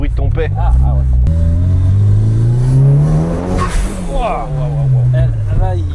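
A Mitsubishi Lancer Evolution engine revving up loudly and close by, rising to a peak, then falling back and settling near idle, with voices talking over it.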